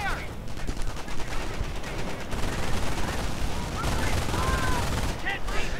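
Rapid machine gun bursts from an MG-42 in a World War II strategy game battle, a dense, continuous rattle of gunfire with scattered shots and explosions layered over busy battlefield noise, with commentators talking throughout.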